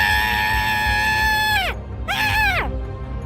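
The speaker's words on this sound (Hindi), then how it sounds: "उसे देखकर विमला की सौतेली माँ जोर जोर से चिल्लाने लगी।" A woman in an animated Hindi story screams loudly twice, a long sustained shriek that falls away at the end, then a shorter second cry, over steady background sound.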